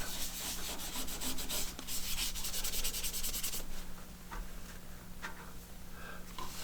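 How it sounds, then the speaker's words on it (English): Continuous rough rubbing on turned wood with sanding paste, gritty and close, with a steady low lathe hum underneath and a few quicker scratchy strokes toward the end. "I'm just going to use a sanding paste to smooth it out a little bit"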